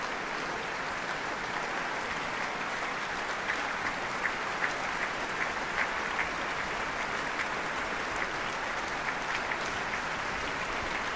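A concert hall audience applauds a violinist after a live performance of Mozart's Violin Concerto No. 4, a steady dense wash of many hands clapping throughout, with a few sharper individual claps standing out.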